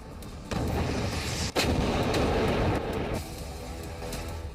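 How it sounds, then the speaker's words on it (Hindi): An Indian army rocket launcher fires on a snowy border range, a loud sustained roaring blast with sharp bursts near the start and midway, then a fading rumble. "जमीन पर शोले उगलता विध्वंसक रॉकेट लॉन्चर"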